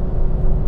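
An Aston Martin Vanquish engine, working through a paddle-shift gearbox, gives a deep, loud, steady roar as it accelerates after a downshift, heard close and alone for under a second.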